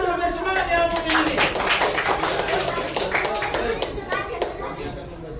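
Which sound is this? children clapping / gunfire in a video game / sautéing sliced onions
children clapping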